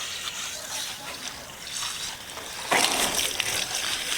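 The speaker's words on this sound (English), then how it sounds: "So let me get my hose here." Garden hose spraying water into a dry compost bin, a steady close gush and splatter with a soft lull, then a brighter, stronger burst of spray near the end.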